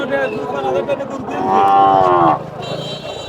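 A cow lets out a long, loud moo close by, over a busy background murmur of an outdoor crowd at the Pingna cattle market in Bangladesh.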